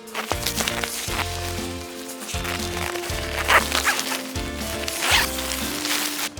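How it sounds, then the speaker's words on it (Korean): A zipper is pulled along the fabric seam of a Skycamp Mini awning, with repeated rasping strokes close to the mic, some short and some drawn out, over rustling fabric and no speech. "이렇게 지퍼 찾아서 올라가서 연결을 할 건데"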